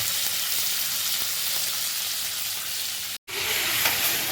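Crab pieces frying in oil in a pan, a steady close sizzle that runs without a break and cuts out for an instant near the end before carrying on.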